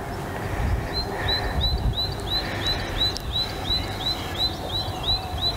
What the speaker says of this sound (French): Je ne le vois pas, mais alors qu'est-ce qu'il chante bien